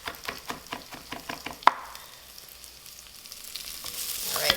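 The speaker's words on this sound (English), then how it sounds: "I'm just gonna let this saute up for a couple minutes" Food sautés quietly in a pan, opening with a quick series of rhythmic taps and a sharp knock, then settling into a soft, low sizzle that gradually swells toward the end.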